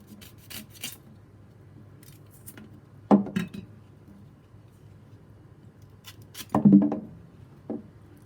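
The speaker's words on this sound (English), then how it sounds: "I'll cut off the ends." A knife trims the ends off a green plantain, giving two brief, distinct cuts or knocks several seconds apart against a quiet background.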